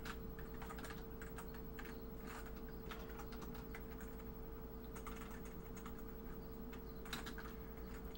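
Fingers tap quickly and steadily on a computer keyboard, producing soft, close clicking in irregular bursts over a low, constant electrical hum.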